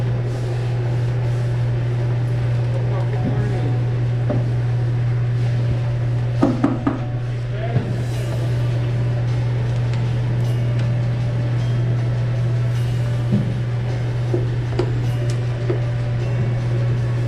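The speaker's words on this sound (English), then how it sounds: "So the machine's working good now." Repaired cider-making machine running in a warehouse, a loud constant low hum with faint clanks and rattles over it.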